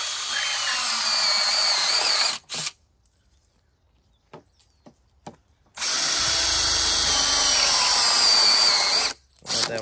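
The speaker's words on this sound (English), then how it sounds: "Next up, I put a 4 inch cap and I use this drill bit." Power drill with a unibit boring through a 4 inch cap: a loud, close, whining run of about two and a half seconds, a pause with a few clicks, then a second long high-pitched drilling burst of over three seconds.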